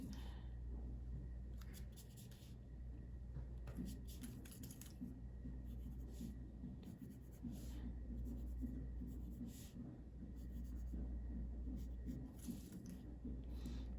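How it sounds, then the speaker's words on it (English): A pen or pencil draws buildings on paper in short, close scratchy strokes that come in clusters with gaps between them, over a steady low background hum, with no talking. "I could actually draw another building further down if I wanted this to look like a street."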